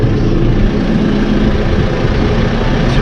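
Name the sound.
tractor engine revving up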